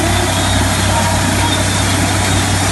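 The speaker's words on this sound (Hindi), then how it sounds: "ट्रैक्टर से चलती है मशीन" A steady, loud engine drone runs throughout, a low continuous rumble of a tractor-powered corn-shelling machine running without pause.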